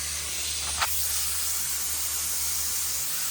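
A spray gun lays a first coat of primer onto a shop truck under restoration, giving a steady, close hiss that runs the whole time with one brief burst near the start.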